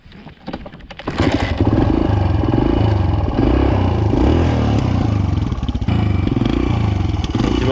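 A Suzuki DR-Z 125 off-road motorcycle kicked into life after a few clattering attempts, its small single-cylinder engine then running loud and close with rough revving and idling.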